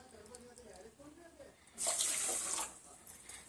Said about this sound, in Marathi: दीड ते दोन ग्लास आणि दोन वाट्या पाणी घालायचं आहे